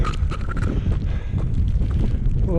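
Strong high wind buffets the microphone on the Y Lliwedd mountain ridge, a continuous loud, rumbling roar with gusty swells and no pauses.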